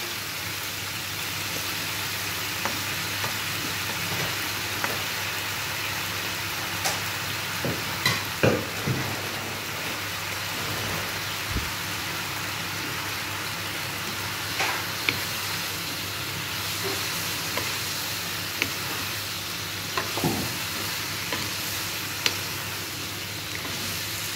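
Bitter gourd (ampalaya) stir-frying in a hot pan, with a steady broad sizzle and hiss throughout and scattered scraping clicks of a utensil stirring the vegetables, close and alone.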